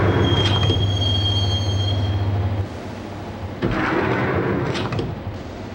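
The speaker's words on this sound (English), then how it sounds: "the train doors had already shut behind me, and I was in for the ride" Rumbling train ride in the 2001 PS2 game Max Payne: a steady rail roar with squealing wheels that fades partway through, then surges again, loud and close.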